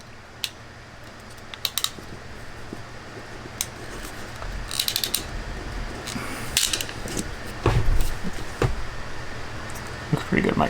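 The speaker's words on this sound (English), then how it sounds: "Come back with the regular crimpers just to make sure that we're nice and crimped." A ratchet crimping tool clamps wire crimp connectors during wall installation in a Sprinter 144 van, making close, scattered bursts of sharp ratcheting clicks with brief pauses between squeezes.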